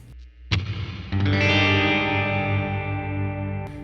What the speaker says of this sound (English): we're going to drop in the reverb just as it is and hear what it sounds like